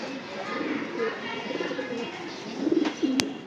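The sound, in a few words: pigeons cooing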